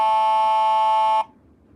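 A speaker strobe plays a steady, piercing electronic alarm tone, loud and unbroken for just over a second before it cuts off abruptly into quiet.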